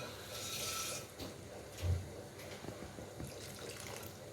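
Water poured from a vessel into a cooking pot of green gram makes a brief splashing rush at the start, followed by quieter trickles and faint kitchen noise.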